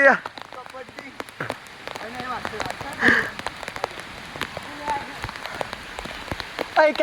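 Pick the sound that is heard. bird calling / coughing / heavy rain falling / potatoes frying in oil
heavy rain falling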